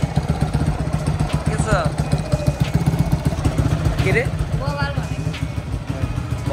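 A motorcycle idles before setting out on a ride from Kathmandu toward Baglung, its loud, even thumping pulse running the whole time while people chat nearby.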